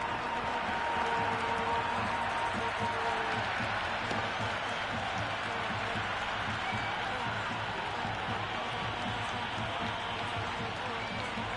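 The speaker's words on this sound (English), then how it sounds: "Will you listen to that crowd? They are loving this." A large video game cricket crowd roars and applauds continuously, a dense, steady wall of cheering that stays loud from start to finish.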